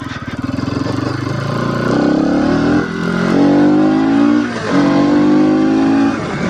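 A Bajaj Pulsar NS200 BS7 motorcycle cruising in fifth gear, its engine droning steadily close to the microphone with rising tonal revs that dip briefly at two points before climbing again, loud and continuous with no talking.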